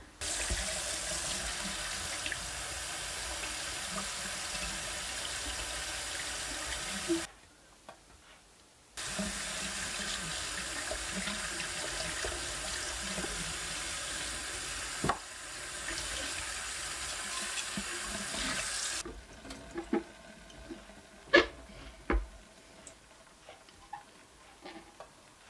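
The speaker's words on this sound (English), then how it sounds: "Okay, so I did a quick wash and dry, and I used cold water." Cold tap water runs steadily into a sink in a studio during a wash, a continuous hiss that stops briefly, resumes, then gives way to faint scattered drips and clicks.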